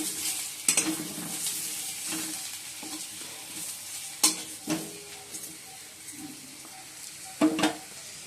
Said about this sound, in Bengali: এবার আলুগুলো ভেজে নিচ্ছি